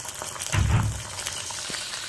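Garlic frying lightly in a pan for potato pasta gives a soft sizzle and bubbling, with a brief low thump and stir near the start, then steady quiet crackling.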